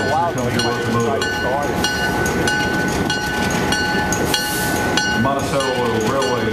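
A 1959 Montreal Locomotive Works ALCO FPA-4 diesel locomotive of 1,800 horsepower rolls past, giving a loud, steady rumble and clatter with sustained tonal hum throughout, and voices talk over it.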